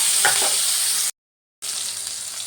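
Chopped tomato frying in oil with black cumin gives a steady close sizzle, briefly cut to silence midway, with faint spoon stirring near the start.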